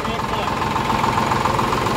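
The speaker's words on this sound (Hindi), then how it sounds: "आवाज सुनिए आप, क्या शानदार आवाज है। इंजन बिल्कुल बढ़िया है" A SAME 393 tractor engine idles steadily with a rough, knocking mechanical rumble, near and continuous, while voices talk over it outdoors in a village.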